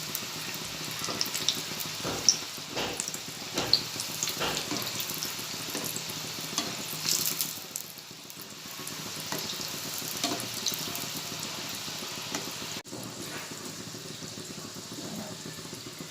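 Shakkarpare dough pieces bubbling and sizzling in hot oil as they deep-fry toward golden, with occasional spoon stirring and clinks, steady and close.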